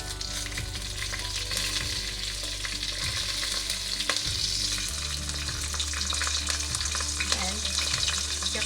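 Green chilies hit a hot pan of oil with cumin seeds and curry leaves, setting off a loud, close, unbroken sizzle with crackling spatters and an occasional knock of a utensil.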